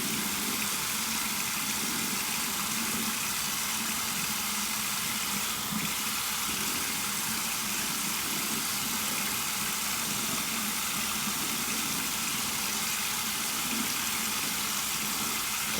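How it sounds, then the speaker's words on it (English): Cold tap water runs steadily over an alum block in a continuous hiss and splash, close and unbroken throughout, with no voices. "Run it under some cold water, run it over the face."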